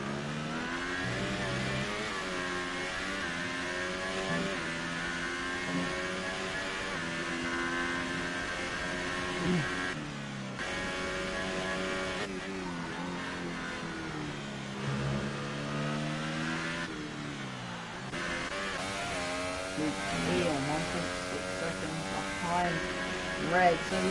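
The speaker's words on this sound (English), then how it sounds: "You can hear the strain on the engine there going down the Wellington Straight" A Formula 1 race car engine in a racing video game strains loudly down the Wellington Straight at the British Grand Prix. Its high, continuous whine rises and falls through gear changes for the whole stretch.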